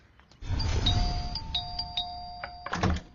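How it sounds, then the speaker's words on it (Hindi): A doorbell at a house gives two ding-dong chimes close by, each a pair of ringing tones that hang and decay, with a short thump near the end and no talk. "कितना डोरबेल मारता है यहाँ?"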